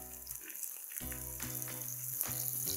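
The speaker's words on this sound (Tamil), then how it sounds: "இதெல்லாம் போட்ட பிறகு லைட்டாக வதக்க ஆரம்பிங்க" Onion, tomato and a small piece of tamarind sauté in a pan, giving a steady low sizzle and frying crackle that swells after the first second and continues through, with no talking.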